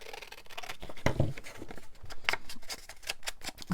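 Scissors snip through a paper scrap while cutting out junk-journal ephemera, giving a run of close, crisp, irregular cutting clicks and rustles.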